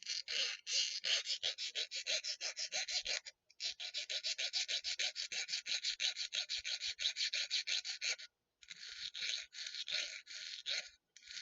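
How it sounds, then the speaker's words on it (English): A wooden peg being sanded down by hand, rapid rhythmic back-and-forth rasping strokes in three long bursts separated by brief pauses, close and fairly loud, with no talking. "Or I sand down the peg a little bit."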